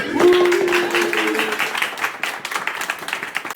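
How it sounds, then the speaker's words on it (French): A small group claps and cheers to welcome Anissa, the applause strong at first with a voice over it, then thinning into scattered, uneven claps as it fades. "un bon accueil à Anissa et applaudissements"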